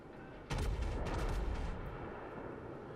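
Warship guns boom in a naval battle in World of Warships, with one heavy salvo followed by a long rumbling tail and further reports. The gunfire is loud and close, and no one speaks.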